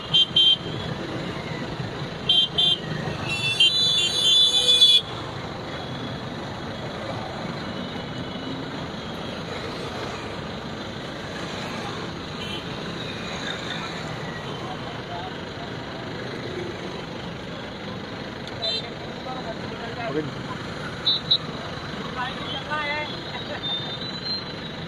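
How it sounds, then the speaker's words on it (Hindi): Slow-moving road traffic during a religious procession in Bhopal, India, with a continuous low rumble of engines, occasional horn toots and a brief burst of louder noise early on, all at moderate distance. "थोड़ा ट्रैफिक आगे की ओर बढ़ता जा रहा है धीरे धीरे करके"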